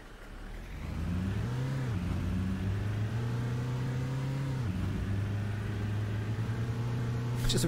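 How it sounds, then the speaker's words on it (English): A bus engine in Fernbus Simulator drones steadily, its pitch rising, then dipping abruptly at a loud gear change before settling back into a sustained hum, close and fairly loud throughout. "It's just a really loud gear change"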